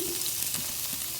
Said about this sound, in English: We are frying the onions now.